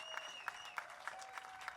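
A crowd at a veterans' celebration on Kaua'i applauds Korean War and Vietnam veterans, a fairly quiet, distant field of steady clapping punctuated by a few sharper individual claps roughly every third of a second.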